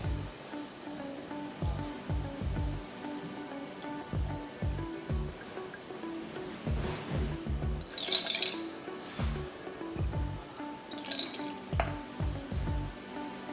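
Freshly brewed Ethiopian filter coffee poured over fresh ice in a glass, with repeated low gurgling glugs, cracking ice and a couple of bright clinks against the glass, close and fairly quiet.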